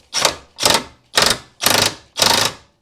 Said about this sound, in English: Now you can put the castle nut on and then tighten the castle nut down.